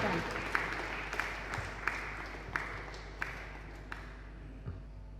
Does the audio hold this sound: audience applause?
yes